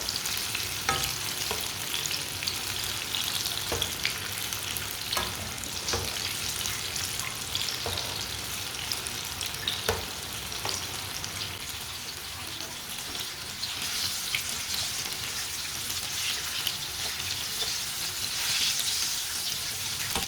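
Potato pakoras fry in hot oil with a soft, continuous sizzle and crackle, punctuated by light clicks and stirring sounds, fairly quiet and close.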